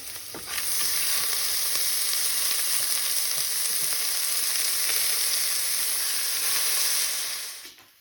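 Rice is tipped into a pan of lightly fried vegetables for saffron vegetable pulao, setting off a loud, steady sizzle that holds for several seconds before tapering off.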